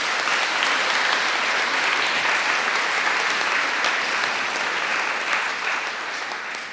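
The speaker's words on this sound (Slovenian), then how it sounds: "En aplavz za Jezusa," A crowd at a large religious renewal gathering applauds, a thick continuous roar of clapping that stays strong and tapers off slightly at the close.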